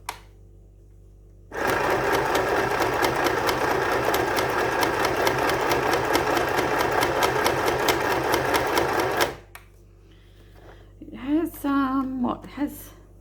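A heavy sewing machine with 12 stitch settings runs from its side switch, not a foot pedal. It makes a steady, close mechanical whirring with a fast clatter for about eight seconds, then stops. Someone speaks briefly afterward.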